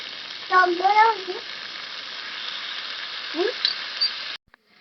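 Sour yogurt whisked with sugar goes into a pan of frying mixed vegetables, giving a soft, steady sizzle with a few faint squeaky tones over it before it cuts off abruptly.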